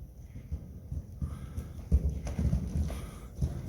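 Horse hooves clip-clopping in a steady rhythm over ground poles and cavaletti during a schooling exercise, with dull thuds and occasional wooden knocks, close and fairly clear with no talk.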